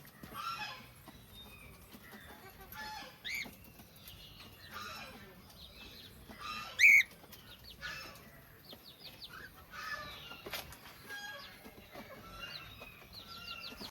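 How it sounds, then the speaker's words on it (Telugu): Several kinds of chickens clucking and calling near and far in scattered bursts, with one sharper squawk midway, over quiet background and occasional talk. "చాలా మంచిగా అయితే ఉన్నాయి కోళ్ళు వెరైటీ వెరైటీ కోళ్ళు"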